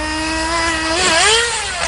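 A radio-controlled model car's small engine whines at high pitch as it drives, rising and dipping in revs while passing close and loud.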